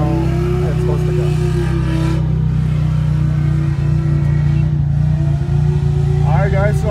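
A non-turbo SR20 engine in a Nissan 240SX drones loudly and continuously at a drift event, its pitch rising and falling slightly as the throttle shifts. The sound is heard from close by.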